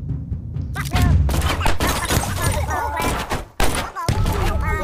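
Gumslinger shooter gameplay with a string of punchy gunshots and thuds from headshot hits, layered with busy game effects and music-like tones, loud and close throughout.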